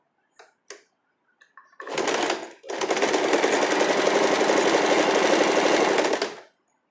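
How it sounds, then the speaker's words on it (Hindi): A sewing machine top-stitches a cami top, giving a few short taps first, then a brief burst and a long, steady, rapid whirring run of stitching that stops abruptly, close and alone with no voices. "तो इस तरह से मैं यहाँ पे स्टिच कर रही हूँ"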